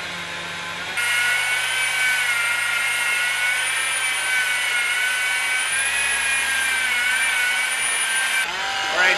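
Power sander with a clean 120 grit pad working a wooden log bench, a loud steady high-pitched whine with a gritty grinding texture running continuously for about eight seconds, close by.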